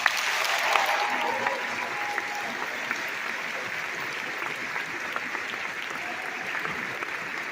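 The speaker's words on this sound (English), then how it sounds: "Please give them a round of applause." A high school graduation audience, with Southport High School as host, applauds the class officers and senior speakers: sustained, dense clapping from a large crowd, steady throughout, with faint cheers mixed in.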